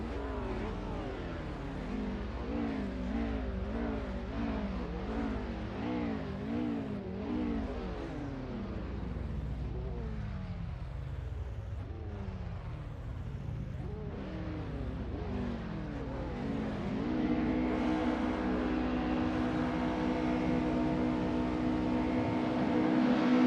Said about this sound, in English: Behold, a symphony of engines roars to life.